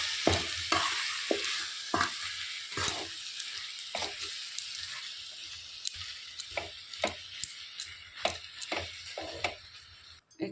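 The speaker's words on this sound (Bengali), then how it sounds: "তো গুড়টা আমার গলে গেছে, এখন আমি চালতাগুলো ঢেলে দেব।" Elephant apple pieces fry and sizzle in melted jaggery, with a steady hiss broken by sharp, irregular clicks and taps of a utensil stirring the pan close by.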